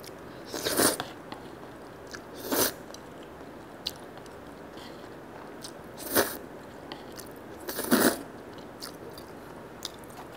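Konjac noodles are eaten at a late-night diet mukbang, with four distinct bites and slurping crunches spaced a couple of seconds apart and soft chewing between them, close and otherwise quiet.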